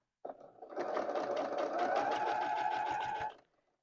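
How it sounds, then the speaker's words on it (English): A sewing machine stitches a stand mixer cover, starting abruptly and running steadily for about three seconds with a dense, rapid mechanical whir and clatter, then stopping, with no talking. "Let's see about sewing this, if I can find my foot pedal."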